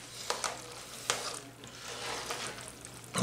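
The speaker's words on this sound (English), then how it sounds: "So just give it a good stir." Jalapeno popper macaroni salad with bacon being stirred in a bowl, giving a few soft scraping, squelching strokes at a steady pace, close and fairly quiet, with no talking.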